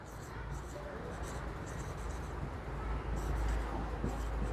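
Someone writes on a board during a maths lesson on sample spaces and events. The steady scratching and tapping strokes are close and continuous, with faint talk underneath.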